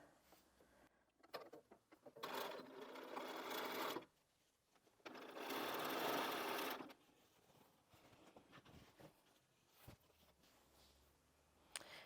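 A sewing machine stitches binding onto a Christmas tree skirt in two sustained whirring runs of a couple of seconds each, separated by quiet pauses with small handling clicks, close and fairly soft.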